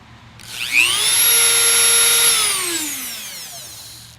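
Dremel rotary tool fitted with a 1.5 inch metal cutting blade slicing into a Jeep Wrangler JL hood, a loud, steady high-pitched whine that rises, holds, then winds down; no speech.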